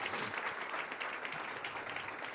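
A Spanish-speaking church congregation applauds during a morning service. Many hands clap together in a full, even wash that holds steady throughout, with no speech over it.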